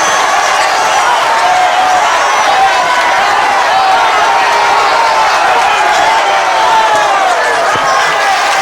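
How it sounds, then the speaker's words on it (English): Wrestling crowd roars after the winning fall in a UK bout, a loud, continuous wall of cheering and shouting from a packed hall with voices blended throughout. "And the crowd going mad here,"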